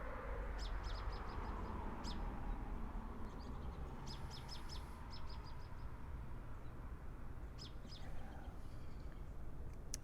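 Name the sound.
birds singing in trees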